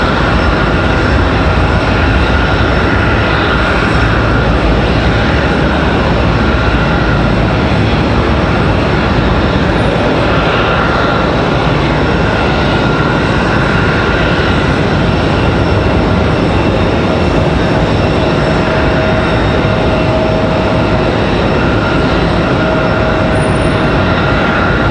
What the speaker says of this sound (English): Got another A320 ready to go for Delta Airlines.